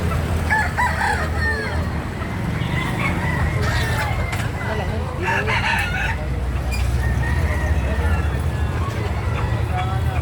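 Chickens crow and cluck nearby amid outdoor bustle, with people talking over the birds throughout.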